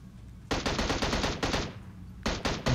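Gunfire in the mobile battle royale game PUBG Mobile, loud close automatic bursts of rapid shots, a long volley followed by a pause and a second short burst, with no voice over it.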